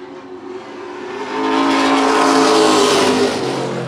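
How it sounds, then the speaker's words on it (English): Race cars with side exit exhausts and over 500 horsepower screaming past at the 2023 Boss Hogg 150, a loud, continuous engine roar that swells as the cars near and then holds steady, with no talk. "Love the sound of that side exit exhaust."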